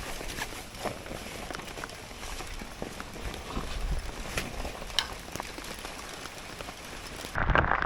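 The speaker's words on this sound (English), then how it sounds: "Absolutely bucketing down and blowing really strong upstream." Heavy rain pours down in strong wind at a riverside match-fishing festival in Evesham, a dense steady patter of drops drumming on nearby surfaces, with occasional louder splats and a brief gust toward the end.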